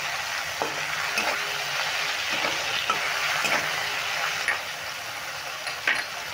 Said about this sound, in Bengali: নুনটা টমেটোর মধ্যে দিয়ে দিলে তাড়াতাড়ি মজে যাবে বা ভাজাও হয়ে যাবে তাড়াতাড়ি